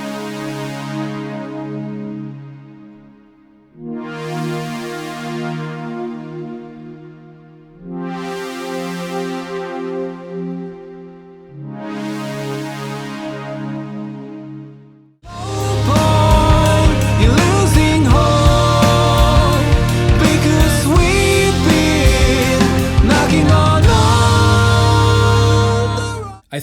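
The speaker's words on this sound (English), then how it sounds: "the first one is called Replicant because it has that iconic sound from Blade Runner" A Replicant synth preset modeled on the Blade Runner sound plays four slow, swelling chords with long decays, followed by a dense, loud sustained passage with rhythmic layers, with no voices.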